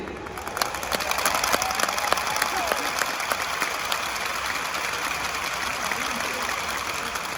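Large convention audience at an NEA RA gathering in Chicago clapping along, a fairly faint, steady patter of many hands with a murmuring crowd underneath.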